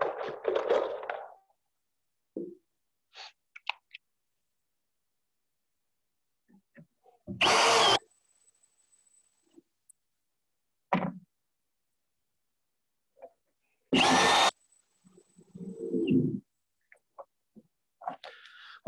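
A power drill drives screws into the wooden frame of a raised garden bed. There are two loud, sustained bursts of whirring separated by quiet stretches, with faint handling knocks and scrapes between them.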